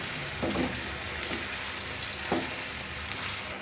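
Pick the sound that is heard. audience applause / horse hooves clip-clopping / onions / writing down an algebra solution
onions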